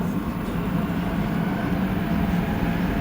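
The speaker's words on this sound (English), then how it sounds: "because we're now in the train leaving the station" Montreal Metro Orange Line train leaving the station, heard from inside the car as a steady loud rumble and roar of wheels and motors with no voices over it.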